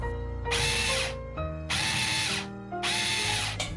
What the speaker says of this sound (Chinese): 然后用破壁机 粉碎一下